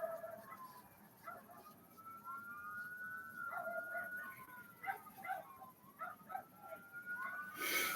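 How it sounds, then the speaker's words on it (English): Dog barking and yelping faintly in the distance, a string of high whines and yips rising over a quiet background hiss, no talk. "I hear a doggy barking."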